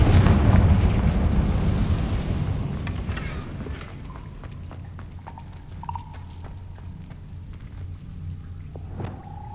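A Confringo blasting spell explodes in Hogwarts Legacy, a loud booming burst that rumbles and slowly fades into crackling debris and scattered small impacts.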